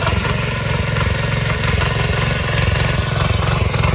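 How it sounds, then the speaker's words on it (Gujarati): A small tractor engine runs steadily close by in a village field, a continuous low chugging drone with rhythmic mechanical clatter and no pauses. "નાનું ટ્રેક્ટર લાગી ગયું, એકદમ નાનું ટ્રેક્ટર"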